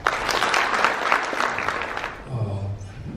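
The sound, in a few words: audience applause at an inauguration ceremony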